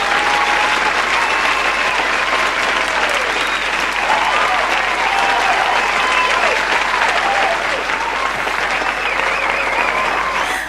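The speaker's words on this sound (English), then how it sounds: "this clap is for you for finish" Sustained audience applause for a quiz show contestant, a dense, steady wash of clapping from many hands that holds at a constant level for about ten seconds.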